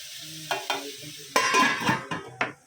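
Methi matar bhaji cooking in a pan: soft sizzling broken by several scraping stirs and clinks of a spoon, growing busier midway, heard close with no talk.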